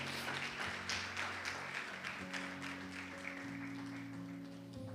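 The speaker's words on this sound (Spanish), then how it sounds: "Dale un aplauso al Señor." A congregation applauding during a church service, a steady, dense wash of clapping from many people that fills the room, with low organ or keyboard tones sustained underneath.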